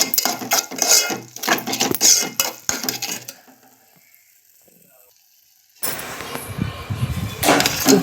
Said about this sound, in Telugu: కలుపుకొని కాసేపు మూత పెట్టుకోవాలి.